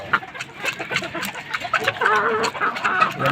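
Chickens cluck and peck busily at feed close by, with grease and molasses in the mix, a steady scatter of short clucks and pecking taps running throughout.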